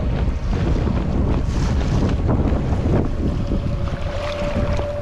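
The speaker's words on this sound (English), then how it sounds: "Whoa, big waves." Big waves and strong wind batter a small boat out on the water during a carp fishing trip, a loud, steady roar of gusts and crashing wash close by with no talking.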